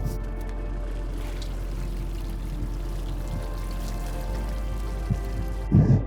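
Seawater streaming and pouring steadily off an oyster culture rope hauled up from the sea at a Uramura oyster farm, with a low engine hum underneath and a brief splash near the end.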